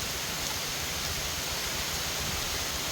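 Steady rain falls outdoors in a dense, even hiss that fills the whole moment without pause, loud and close, with no voices.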